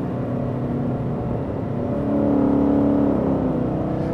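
A Ford Mustang with a 10R80 ten-speed automatic decelerates while holding its gear, giving a steady droning engine note with a slight swell in the middle, close and continuous with no talking.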